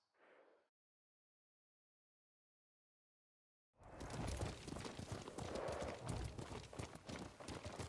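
A horse in the Ghost of Tsushima video game clip-clops along at a steady pace after a brief faint sound and a silent gap, the hoofbeats continuous and fairly close.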